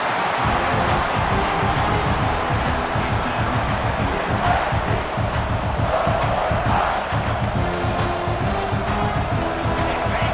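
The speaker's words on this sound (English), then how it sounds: "this crowd is fired up. Listen to this noise here." A large football stadium crowd at a South Carolina vs Indiana game roars and cheers continuously, a dense, loud wall of voices sustained throughout.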